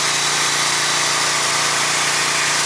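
A Kärcher pressure washer cleaning a truck: a loud, close, continuous hiss of spray over a steady motor drone, unbroken throughout.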